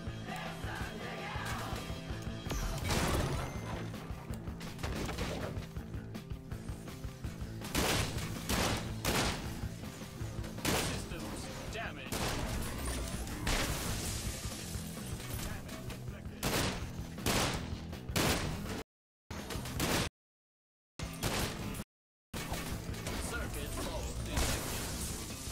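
Gunfire from a revolver-style gun in the video game Sunset Overdrive, repeated loud shots and blasts layered over busy game action and music, with a few brief dropouts near the end.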